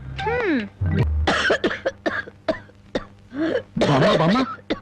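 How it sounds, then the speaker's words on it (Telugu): A person coughs repeatedly, close and loud, with harsh throaty bursts and strained vocal sounds between them. "ఈ దగ్గుతో రాత్రులు నిద్ర పట్టడం లేదు"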